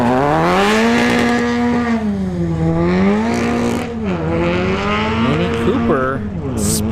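A drag racing car at a test-and-tune dragstrip revs loudly at launch, its engine pitch rising and falling with wavering tones that fit spinning tires, close and dominant over crowd and announcer talk.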